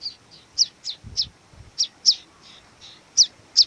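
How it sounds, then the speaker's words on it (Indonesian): Thin, high chirps from prinia chicks in their nest, a steady series of about a dozen short peeps spaced irregularly, fairly faint against quiet outdoor background. "ini anak perenjak"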